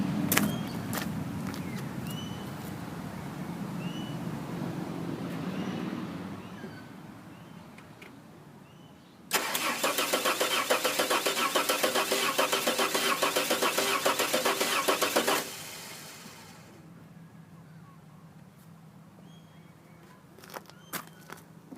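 A Ford XE Falcon wagon, parked for years, with fuel poured into the carburettor. A low rumble gives way to about six seconds of loud starter cranking. The cranking stops abruptly and the engine does not fire.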